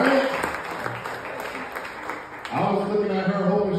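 An audience applauds after a violin performance at a live show, with steady clapping throughout while a voice speaks over it, growing more prominent near the end.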